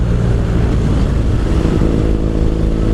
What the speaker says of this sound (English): So let's start with the motor. The motor sounds like a twin.